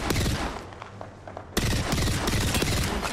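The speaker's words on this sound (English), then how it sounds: "I'm gonna start shooting these dudes." Rapid bursts of automatic weapon fire in the Apex Legends video game, loud and close, with a brief quieter lull before a sharp resumption of sustained, rattling shots.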